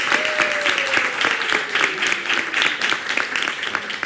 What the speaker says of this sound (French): On applaudit pour Naya d'abord, s'il vous plaît.